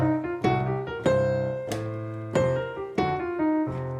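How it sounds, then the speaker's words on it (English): A piano plays a blues scale triplet exercise over a shuffle left hand, quick bright struck notes and chords in a lilting triplet rhythm, close and clear with no talking. "The next exercise is a triplet exercise, and it sounds awesome."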